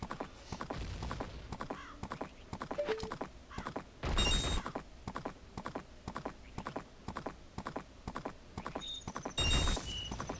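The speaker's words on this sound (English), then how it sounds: "You could just ride the horse like it's no big deal." Epona the horse's hooves in the Majora's Mask video game, a steady galloping clip-clop of rapid even hoofbeats with two brief louder whooshes, no talking.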